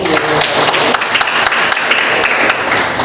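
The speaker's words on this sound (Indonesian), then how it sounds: "Kasih aplaus dulu." A high school chemistry class gives a burst of applause, a loud, dense round of clapping from the whole room that holds steady throughout.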